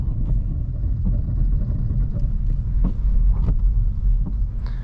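A 2020 Mazda3 AWD rolls through deep snow during a brake test, a steady low rumble of tires and road noise with faint wind buffeting, close and continuous, with no talking.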